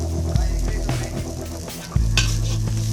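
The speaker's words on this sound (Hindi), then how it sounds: "इसमें हम थोड़ा चिकन डालेंगे। अच्छा फ्राई कर लेंगे" Chicken fries in a pan for noodles, with a loud, close crackling sizzle and a few spatula knocks and scrapes against the pan over a low hum.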